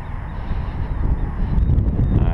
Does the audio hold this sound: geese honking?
yes